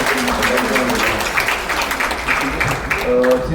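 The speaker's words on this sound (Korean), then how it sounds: "큰 박수로 부탁드립니다" Audience applause at a memoir book launch held in a national assembly museum, a steady crowd clapping throughout with a voice speaking faintly underneath.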